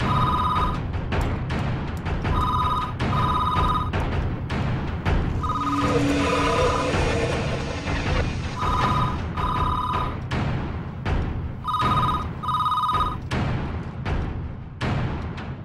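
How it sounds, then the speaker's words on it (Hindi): Telephone bell ringing in repeated double bursts inside a dubbed horror film scene, sounding over a busy, steady background of music and noise, with no one talking. "फोन रिंग हो रहा है"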